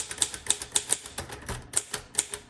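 Close, crisp keystrokes on a green crinkle-finish 1957 Royal Quiet Deluxe manual typewriter come in an uneven run of about a dozen sharp clacks with short pauses between them.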